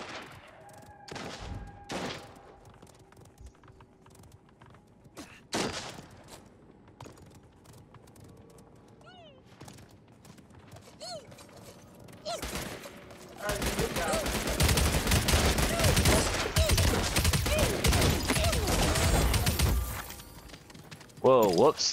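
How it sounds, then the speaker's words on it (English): Gunfire in the battle royale video game Realm Royale: scattered shots early on, then a loud, sustained burst of rapid fire in the second half, with game effects and a player talking in between. "Is Wide Awake getting shot at?"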